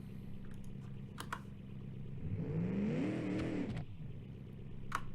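A car engine in BeamNG.drive fitted with an adjustable rev limiter, idling and then revving up in a rising, wavering surge before dropping back to a rough idle, with a few sharp clicks.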